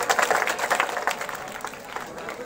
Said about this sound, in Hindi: हरसूद ब्लॉक एक बार शिवराज जी के लिए जोरदार ताली दे।